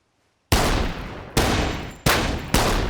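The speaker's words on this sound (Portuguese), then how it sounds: "Ok, atirou rápido demais." Four loud gunshots ring out during shooting practice at a police range, coming after a moment of silence, each a sharp crack with a long ringing decay, unevenly spaced.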